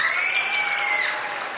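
A church congregation applauds at a baptism service with a short burst of clapping. Shrill cheering and whooping voices ride over the clapping, then taper off.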